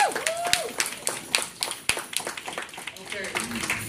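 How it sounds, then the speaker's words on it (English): Scattered audience clapping at a business gathering in Birmingham, Alabama, with sharp individual claps over a lively room, voices and movement mixed in, thinner than a full ovation. "let's give them a round of applause right there"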